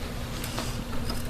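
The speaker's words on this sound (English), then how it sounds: "Just don't drop my bees." Honeybees buzzing densely during the install of a nuc hive, a close continuous droning hum throughout the brief moment.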